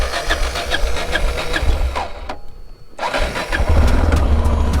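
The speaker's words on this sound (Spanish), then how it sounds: "Cuando la arranco por la mañana, el ralentí va muy bajo y se ahoga." Motorcycle engine, ridden on a trip in Madagascar, starts up loudly, stalls briefly into near silence, then is restarted and settles into a low, rough, uneven idle, close and alone.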